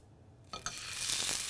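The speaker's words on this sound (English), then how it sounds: "you should hear a nice sizzle" Rack of lamb meat hitting a hot pan of olive oil, a few clinks of contact followed by a quickly swelling, steady loud sizzle that fills the rest of the moment, with no voices.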